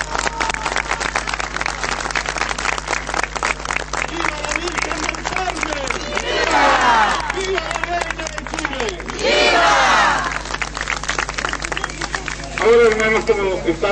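A crowd at a Virgen Peregrina procession in Lota applauds and cheers loudly and continuously, with dense clapping and shouted voices swelling in bursts.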